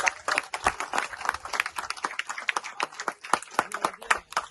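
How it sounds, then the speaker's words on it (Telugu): A village gathering at a Congress party joining event applauds in approval, with uneven, scattered claps from a modest crowd, moderately loud and sustained for several seconds. "మీరందరూ ఆమోదించి చప్పట్లతో ఆమోదించినట్లయితే"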